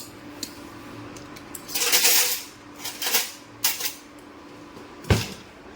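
Spoons and other cutlery being sorted by hand in a home kitchen, with scattered metallic clinks and clatters, a few louder bursts of rattling and a sharp clink near the end, all fairly close and without talk.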